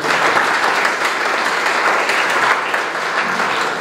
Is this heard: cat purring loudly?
no